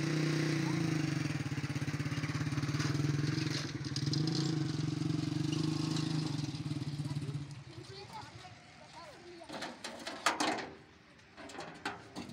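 A Russian Belarus tractor engine drives a flour mill, a loud steady diesel drone that cuts out partway through, followed by clanks and knocks as talk continues.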